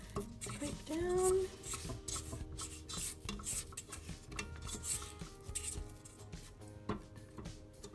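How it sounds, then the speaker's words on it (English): A spatula scrapes down the sides of a mixing bowl of muffin batter, giving repeated rubbing, scraping strokes with clinks against the bowl, close and fairly steady throughout. "you probably want to give it a scrape down the sides because it starts to get stuck a bit"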